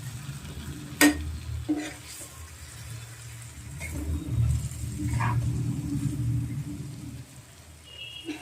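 Stuffed brinjals sizzle and fry in a pan while a spoon stirs and turns them, with a sharp scrape near the start and a steady crackle under the occasional clatter.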